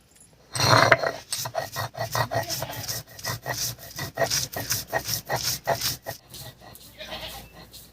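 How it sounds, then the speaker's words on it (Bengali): Soaked red lentils are ground by hand on a shil-nora stone slab, giving a close, steady series of rhythmic rasping, scraping strokes that continue for several seconds. "আমি শিলনোড়ায় বেটে নিচ্ছি তাই একটু সময় লাগবে"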